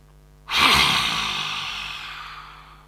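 A single big breath during a yoga session, taken with the tongue out: a sudden loud, airy rush that starts abruptly and then slowly tapers off, close up and alone.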